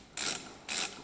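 Two short plastic clicks as retaining clips are loosened on the circuit board of a Mercedes-Benz five-speed automatic transmission, each a quick close-up snap with a brief scrape, quiet and alone.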